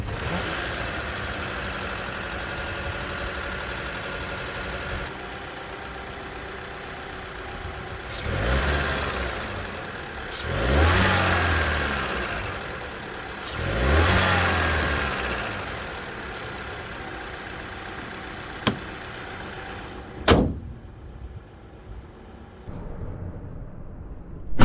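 Volkswagen Golf with a 1.5 eTSI four-cylinder mild-hybrid engine idles steadily, then revs three times in even rising-and-falling swells, followed by a couple of sharp clicks before the sound cuts off.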